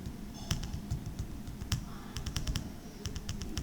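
Quick, crisp taps of a computer keyboard as text is entered in an Excel field, close-up, in fast irregular clusters over a steady background hiss.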